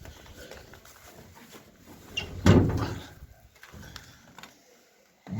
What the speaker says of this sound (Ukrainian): Зараз прикрию двері, щоб не було сквозняку